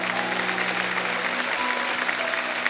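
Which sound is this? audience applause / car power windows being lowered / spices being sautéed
audience applause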